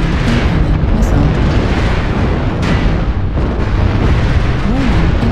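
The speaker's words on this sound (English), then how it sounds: "Warning, incoming missile." Missile impacts and explosions in the video game MechWarrior Online, a dense continuous barrage of booms and rumbling blasts filling the whole stretch at high loudness, with game warning tones and a faint voice mixed in.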